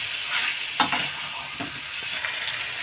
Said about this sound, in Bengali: আবার একটু নাড়তে হবে 1 মিনিট মতো।